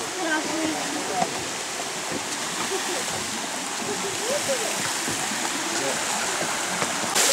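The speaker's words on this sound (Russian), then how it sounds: "Как тебе водопады?" Steady broadband rush of the 33 Waterfalls on a guided hiking excursion, continuous water roar filling the scene with small splashes, and people talking faintly over it.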